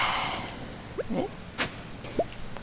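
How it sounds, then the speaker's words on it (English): Soft, steady rain patters in the Stardew Valley farming game, a faint wash of hiss with a few small chirpy game blips scattered over it. "Oh, that beautiful rain noise."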